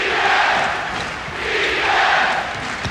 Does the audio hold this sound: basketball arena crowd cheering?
yes